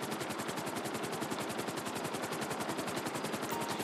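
Rotor chop of a medevac helicopter in GTA 5 thumps in a steady rapid rhythm, loud and close, with a continuous engine whine underneath and no talking.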